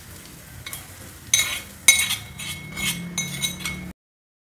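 A spoon stirs onion tempering in oil into chicken gravy in a pan, with repeated close metallic clinks against the rim over a low sizzle.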